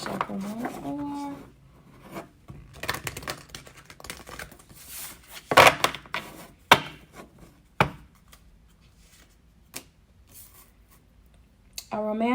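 Oracle cards are shuffled and riffled in quick, scattered bursts of soft snapping and rubbing, close by, with brief pauses and a short bit of talk at the start.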